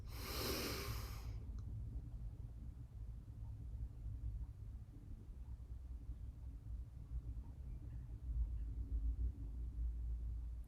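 One deep, breathy exhale at the start of a yoga session, close and fairly loud, then fading into a quiet room with only low background rumble.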